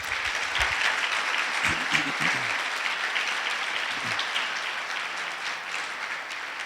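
A church congregation applauding, sustained clapping from many hands that fills the room, moderately loud and continuous with a few faint voices mixed in.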